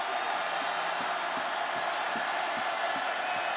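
A large stadium crowd at a Louisville versus NC State college football game keeps up a steady, dense roar, distant and unbroken, with faint rhythmic thumps underneath.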